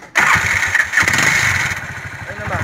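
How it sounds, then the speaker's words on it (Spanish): A Bajaj 205 motorcycle, freshly rebuilt with a new cylinder, valves and valve seals, starts abruptly and settles into a loud, close, steady idle with a brief rev partway through and voices underneath. "vamos a prender la moto para ver cómo quedó"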